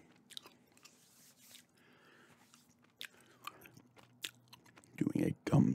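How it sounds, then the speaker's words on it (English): Gum chewing in a close-up ASMR setting, with soft wet smacks and bites scattered through the quiet and a louder burst of chewing near the end. "Doing a gum chewing video games ramble here today."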